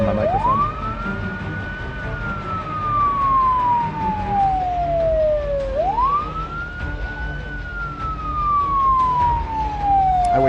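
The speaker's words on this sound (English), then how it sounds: "I wish there was something I could do about the loudness of the siren" A wailing siren in Project Zomboid rises and falls in two long sweeping cycles, loud and close, filling the whole stretch with no one talking.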